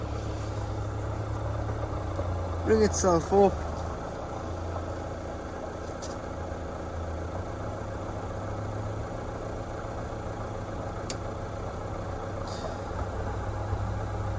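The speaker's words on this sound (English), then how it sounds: "But you do need to start the engine for this to work." Auto-Trail Adventure 65 motorhome engine idling at a steady low rumble throughout, with a brief voice near the start.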